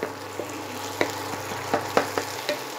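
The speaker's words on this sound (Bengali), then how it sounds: "এবার 2 মিনিটের জন্য ফ্রাই হতে থাক" Salted egg mixture frying in a pan, a low steady sizzle with a handful of light scrapes and taps from stirring, fairly quiet and close.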